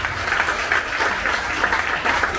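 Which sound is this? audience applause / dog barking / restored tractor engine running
audience applause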